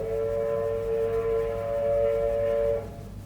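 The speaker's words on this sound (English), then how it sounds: "There's a steam train going through." A steady, fairly distant steam train whistle holds one tone for nearly three seconds over a low rumble as the train passes, then cuts off.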